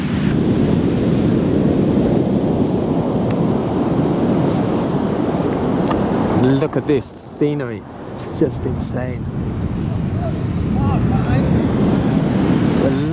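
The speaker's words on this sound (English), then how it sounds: "But look at these waves." Ocean waves crash and roll continuously in a small cove on the coast road between Su'ao and Hualien, Taiwan, during Typhoon Megi, with a loud surf roar, gusting wind on the microphone and a person talking partway through.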